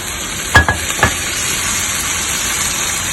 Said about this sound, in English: Now we're going to add a little bit of water so that the masala doesn't burn.